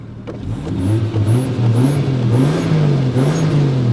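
Toyota Chaser JZX100 Tourer-V straight-six with its variable exhaust valve shut, revved in repeated rising blips over a steady idle, loud and close, no talk.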